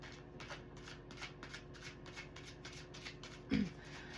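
Tarot cards are shuffled close by in steady, rhythmic bursts of soft papery flicks, about two per second. One brief louder knock comes near the end, and there is no talking.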